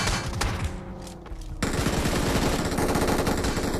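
Dense, continuous automatic gunfire in the mobile game PUBG Mobile, loud and close, a rapid unbroken rattle that intensifies sharply partway through and carries on without pause.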